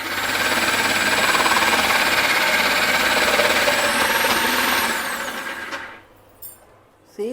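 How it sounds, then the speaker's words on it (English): Raw mangoes are grated for pickle, making a steady, loud, continuous scraping drone for several seconds before it stops abruptly, followed by a few faint knocks. "Now we will grate all these mangoes."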